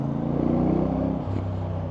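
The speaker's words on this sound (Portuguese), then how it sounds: "Gosto bastante do ruído da moto, do barulhinho que a moto produz." A CFMOTO 450NK motorcycle engine running at a steady idle, with a close, low rumbling tone and a slight dip in pitch partway through, nothing else over it.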